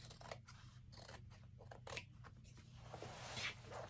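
Scissors snip through denim while jeans are deconstructed for upcycling, giving quiet, close crisp cuts in an uneven rhythm with short pauses between strokes.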